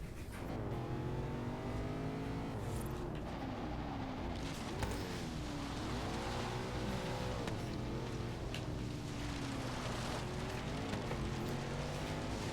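A race car engine in a racing video game drones and revs steadily, pitch rising and falling through gear changes at constant loudness with no voices.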